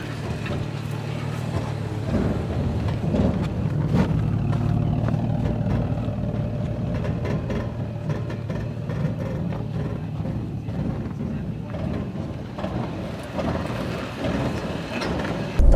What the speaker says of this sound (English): Crawl control is on. You can hear the systems activate. ABS.